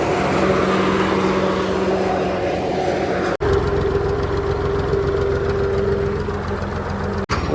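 A Swaraj 855 tractor engine runs steadily nearby, a dense continuous drone with a strong low hum and broadband rattle, briefly cut twice by short dropouts.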